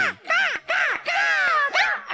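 Harsh, nasal crow caws, apparently voiced by performers imitating crows in a comedic stage orchestra act: several loud, drawn-out calls in quick succession with short breaks between them, heard alone without speech.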